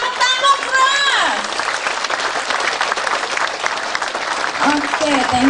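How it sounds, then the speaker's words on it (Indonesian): An audience claps loudly and steadily for themselves at a talk, with dense, sustained clapping filling the room. A voice is heard briefly at the start and again near the end. "Tepuk tangan buat diri sendiri, jangan tanggung-tanggung keras."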